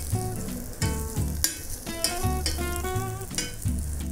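Okonomiyaki topped with an egg yolk sizzling in a hot pan in Japan, a steady crackling fry beneath a repeating musical melody, with no talking.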